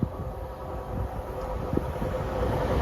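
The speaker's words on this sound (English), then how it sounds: "Here we are, third and final train." Train rolling past Denaby level crossing, a steady broad rumble with rail noise and wind buffeting the microphone, building slightly louder toward the end, no voices.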